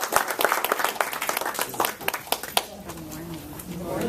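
An audience at a personal transformation talk applauds to welcome the speaker with dense, close clapping that thins out after a few seconds as a voice begins speaking.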